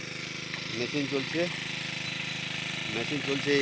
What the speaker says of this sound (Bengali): দেখুন পুকুরে মেশিন বসানো আছে, মেশিন চলছে